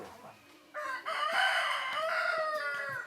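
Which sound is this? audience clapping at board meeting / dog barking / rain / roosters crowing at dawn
roosters crowing at dawn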